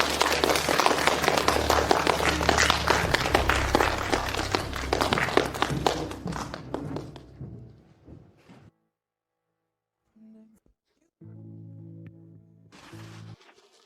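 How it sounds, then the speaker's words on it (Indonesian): Applause for an award winner at a ceremony: dense clapping from an audience for about seven seconds, then fading out into near silence with a few faint sounds afterward. "Mari kita beri dia tepuk tangan meriah."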